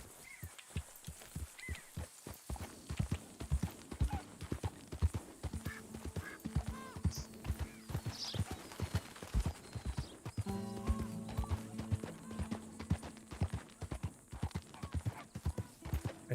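White Arabian horse in Red Dead Redemption 2, hooves clip-clopping in a steady trotting rhythm for the whole stretch, fairly close, with a few other faint background sounds.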